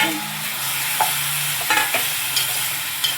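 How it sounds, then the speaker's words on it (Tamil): Tomatoes are sautéed in a pan for tomato thokku, a steady close sizzle and frying hiss with a few spoon or spatula scrapes and taps as they are stirred. "இப்போ நல்லா பிரட்டி விட்டு எதுவுமே சேர்க்க வேண்டாம் நல்லா வேகத்து வெந்து நல்லா சுண்டி வர்ற வரைக்கும் நல்லா வதக்கி விட்டு"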